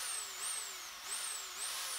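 A Sun Joe electric pole chain saw cuts a tree branch, a steady, distant high motor whine whose pitch rises and falls slightly as it loads into the wood.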